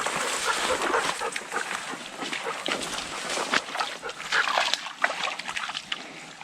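A dog snuffles and laps close by amid splashing and sloshing water, with intermittent wet movement throughout.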